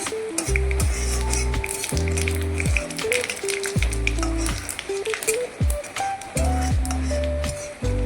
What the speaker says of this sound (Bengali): জিরাগুলো একটু ভেজে নিচ্ছি